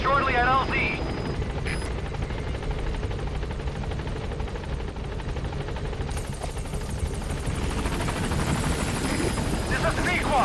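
A Pequod helicopter in Metal Gear Solid V: The Phantom Pain arrives at a landing zone, its steady rotor drone loud and continuous throughout, with a voice speaking over it.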